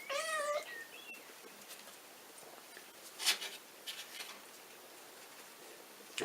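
A month-old kitten gives a few high, thin meows at the start. Quiet scratching and pattering in a cardboard box follow.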